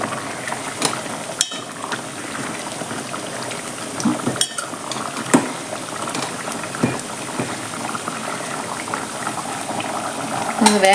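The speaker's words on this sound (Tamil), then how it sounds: "நல்லா கொதிச்சிருச்சு." Kadai chicken gravy with mint and coriander bubbles steadily in a pan, giving a continuous close sizzling simmer with occasional utensil clinks.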